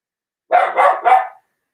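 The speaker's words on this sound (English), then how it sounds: "Sorry, that's my dog." A dog barks three times in quick succession, close by and fairly loud, with silence before and after.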